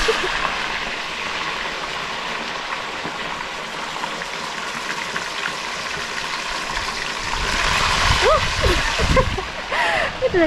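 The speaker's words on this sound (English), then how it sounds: "those are the last ones, and they are bubbling with cooking oil inside there" Food bubbles and sizzles steadily while deep-frying in cooking oil in a new home kitchen, a constant crackling hiss that swells near the end, with people talking over it.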